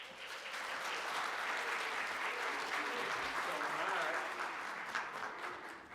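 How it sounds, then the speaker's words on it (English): Steady, dense applause from a conference audience at an immigration lawyers' session, a continuous wash of clapping lasting the whole stretch at moderate distance with no speech. "Please give a warm round of applause for Mr."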